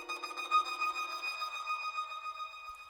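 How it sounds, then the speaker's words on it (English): A single synth hit from a Rev 2 synthesizer with chorus and reverb, a bright sustained tone with steady high harmonics and a low drone that cuts off after about a second, the rest ringing on and fading. "I added this sound, which is from the Rev 2 synth right here"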